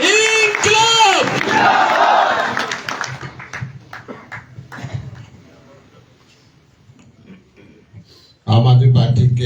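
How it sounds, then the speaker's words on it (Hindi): A crowd at an Aam Aadmi Party event in Haryana cheers and shouts the Inquilab slogan, loud at first, with chanting and claps that fade into scattered noise before a loud burst of voices returns at the end. "एक बार जोरदार तालियों के साथ इंकलाब।"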